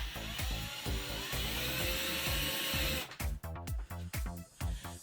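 A drill whines steadily while boring into a plastic shock part of an Absima Shepra CR3.4 RC car, then stutters into short bursts as it stops and restarts, close and clear.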